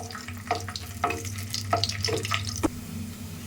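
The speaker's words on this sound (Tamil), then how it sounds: "முந்திரி வறுத்தாச்சு, இப்போ திராட்சையை வறுத்துக்கலாம்." Raisins fry in hot ghee after cashews, bubbling softly under a low hum, with several light clinks and scrapes of a stirring spoon spread across the moment. No one speaks.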